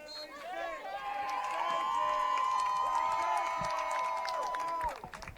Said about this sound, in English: Jackson getting the crowd into this one